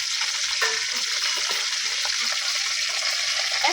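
Whole chickens frying in hot oil in a village kitchen, a steady close sizzle with occasional stirring clinks running evenly throughout.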